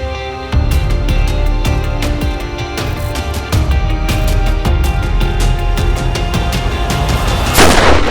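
Gunfire in a Crime Patrol TV crime drama: a run of sharp, loud bangs repeats over a dense, droning music bed, ending in a harsh burst of noise.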